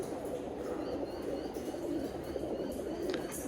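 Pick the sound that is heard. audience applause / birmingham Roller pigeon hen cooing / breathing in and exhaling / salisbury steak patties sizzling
birmingham Roller pigeon hen cooing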